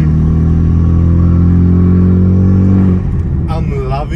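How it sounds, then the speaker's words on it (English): Renault Megane R.S. 225 hot hatch with a stock engine map, a loud deep exhaust drone that drops off the throttle into a burst of rapid crackling pops, heard from inside the car. "by the exhaust popping and cracking, this is on a stock file car"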